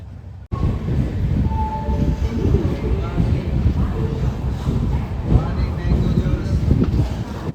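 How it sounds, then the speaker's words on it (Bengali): A moving passenger train picking up speed after leaving Kharagpur station: a loud, continuous rumble of rolling carriages starts abruptly and keeps on, with a faint horn-like tone and some wheel rattle underneath. "খড়গপুর স্টেশন ছাড়তেই ট্রেন বাড়ালো গতি।"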